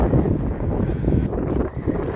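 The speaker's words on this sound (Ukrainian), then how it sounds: "Тут вітер буде тут." Wind buffets the microphone with a steady low rumble and gusty swells throughout, on a farm in Ireland.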